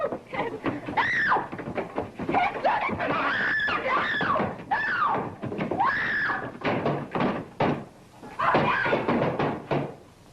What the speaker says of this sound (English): What was all that screaming I heard?